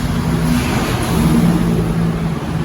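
A four-burner gas stove for kanom krok with its flames lit, giving a steady loud roaring hiss with a low rumble that holds even for several seconds.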